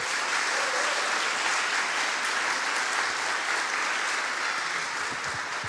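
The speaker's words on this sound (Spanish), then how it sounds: "Demos un aplauso a Mariana." A church congregation at a Sunday service applauds Mariana, a full, even wash of clapping that holds at steady loudness throughout without talk.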